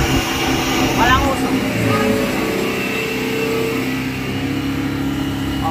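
Isuzu Trooper engine held at high revs around 4,000 RPM, a loud steady droning roar close by, with someone speaking briefly over it early on.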